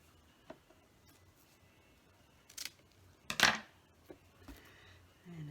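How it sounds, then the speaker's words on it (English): Scissors snipping the end off a piece of cereal box cardboard during recycled box drawer crafting, a few short sharp cuts with one louder crunchy snip, quiet in between. "And I know I have to cut this little end off."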